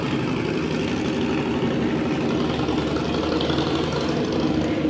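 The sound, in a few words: motorcycle engine running nearby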